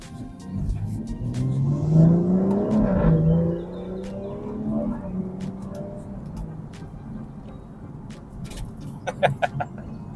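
BMW 440i in Sport Plus mode accelerating hard, a loud engine roar rising in pitch through a gear change before settling into a lower drone, with a few faint clicks near the end.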